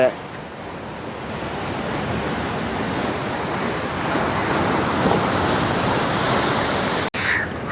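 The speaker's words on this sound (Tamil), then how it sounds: "கடல் அலையை பாருங்கள் ஒப்படி கொந்தளிச்சு இருக்கண்டு" Rough sea surf churning in rain near a fort, a steady loud roar of crashing waves and wash with wind buffeting the microphone, cut by a brief break near the end.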